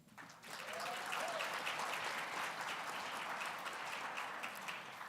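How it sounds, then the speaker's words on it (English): Steady audience applause fills a conference plenary hall for Mike Webb at an HIV advocacy event, sustained and fairly even throughout, with faint voices mixed in. "another round of applause for Mike Webb, please"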